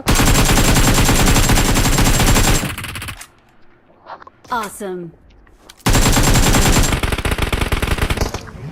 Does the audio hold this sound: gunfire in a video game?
yes